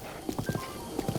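Horse hooves clip-clop in an uneven walking rhythm in The Legend of Zelda: Breath of the Wild, several soft thuds over a constant background hum.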